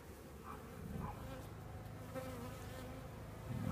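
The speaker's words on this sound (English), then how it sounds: "There's a few bees left over." A few leftover honeybees buzz at a swarm site, a soft steady droning hum with individual bees passing close now and then, faint and without any talking.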